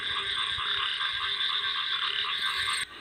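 A dense, steady chorus of frogs croaking with insects chirping, continuous and loud throughout, cutting off abruptly near the end.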